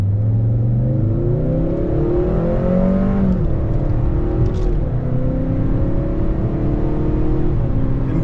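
A 2024 Acura TLX A-Spec pulls away from a standstill, its engine note rising steadily in pitch with a brief dip at a shift, loud and continuous with no talking.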